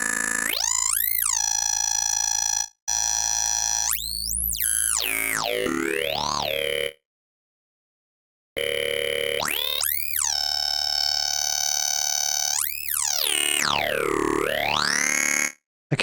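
A wavetable synthesizer plays a bright, buzzy tone with its second waveform cycle flipped, its pitch sweeping up and down in loud horn-like bursts, broken by short silences.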